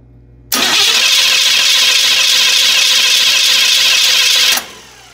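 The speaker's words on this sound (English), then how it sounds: "we're gonna roll over the engine right now" Starter cranking a swapped V8 in a 1993 GMC Jimmy 4x4 fitted with a used flywheel, a loud steady churning grind that kicks in abruptly, holds for about four seconds without catching, then cuts off.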